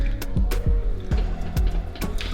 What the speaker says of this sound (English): This is the last batch that I have done, and I'm gonna pour it in there.